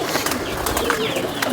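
Ferozpuri pigeon cooing in soft, rolling phrases at close range, set against a steady background hum with faint voices nearby.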